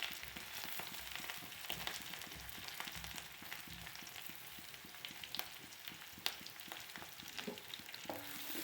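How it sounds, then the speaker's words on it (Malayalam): Onion, garlic and curry leaves fry in coconut oil in a hot pan, a steady crackling sizzle with frequent spatter pops and occasional stirring clicks, close and fairly quiet, no speech. "അതിലേക്ക് അരിഞ്ഞു വെച്ചിരിക്കുന്ന ഉള്ളി, വെളുത്തുള്ളി, കറിവേപ്പില ചേർത്തു."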